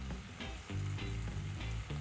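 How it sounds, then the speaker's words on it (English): Chopped onions and tomatoes sizzle in hot oil in a pan for a gravy base, a steady close crackle with bursts of spitting and faint stirring, and no voices. "in the remaining oil I am adding 2 roughly chopped onions, 4 tomatoes chopped"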